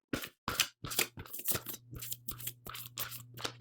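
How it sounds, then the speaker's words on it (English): Tarot cards being shuffled by hand, a quiet series of close, crisp riffling and slapping bursts in an irregular rhythm against a faint low hum. "so we will shuffle one more time here."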